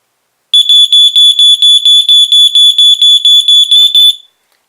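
A Sears (Nalcor) 462.57474 smoke detector sounds its test alarm: a loud, close, high-pitched electronic beep pulsing in a quick steady train of about fifteen bursts, then stopping abruptly.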